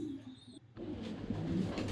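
Thai Titan meat pigeons at a pigeon farm coo steadily in a low, throaty murmur, several birds overlapping close by, with a brief dip near the start before the cooing swells again and continues.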